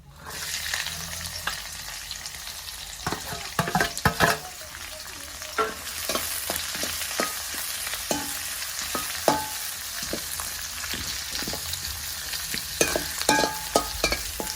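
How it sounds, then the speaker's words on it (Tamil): Onions, green chilies and curry leaves fry in a pan for chicken gravy, making a steady close sizzle punctuated by repeated clinks and scrapes of stirring, with no talk over it. "இப்போ வந்து இதெல்லாம் போட போகிறோம் வெங்காயம் பச்சை மிளகாய் கருவேப்பிலை"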